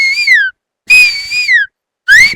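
A man whistles an imitation of a koel's call: three clear, bright whistled phrases with short gaps between them, each gliding upward and then falling away, loud and close.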